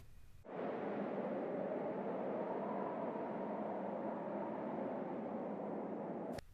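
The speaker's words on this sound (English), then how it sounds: "But here the birds are not singing, and there's nothing but the sound of the wind." Steady, hushed wind rushes through a forest with no birdsong, a smooth unbroken wash of air that cuts in abruptly, holds at an even level and stops suddenly, with no voices.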